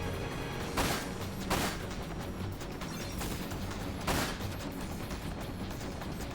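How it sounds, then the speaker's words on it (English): Fireworks bursting outdoors, a few scattered cracks and booms at uneven intervals, muffled and distant over constant background noise. "some motherfucker outside is just throwing up fireworks"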